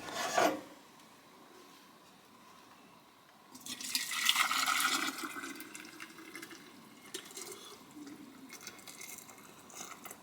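Early-season amber maple syrup is poured into a jar, giving a soft, thick gurgling stream that starts midway, holds for a few seconds and then tapers off. It sounds close but fairly quiet.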